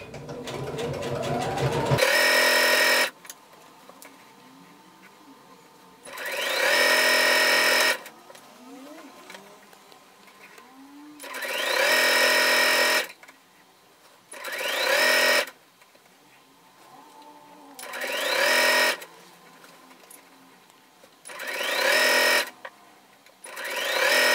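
Sewing machine stitching a kimono sleeve seam in repeated loud bursts of rapid whirring, each a few seconds long, separated by quieter gaps with faint handling and occasional voice.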